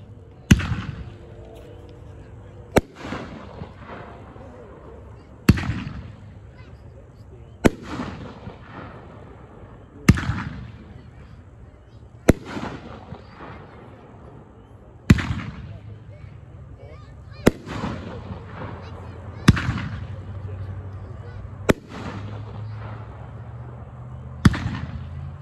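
A consumer fireworks cake called Mother of All Bombs fires at a demo night, about eleven loud sharp booms spaced roughly every two to three seconds, each with a short crackling tail, with faint voices between shots.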